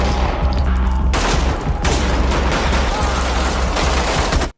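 Sustained gunfire from a film shootout, dense overlapping shots in a loud continuous fusillade like automatic weapons, with a brief tonal sound early on and no talk.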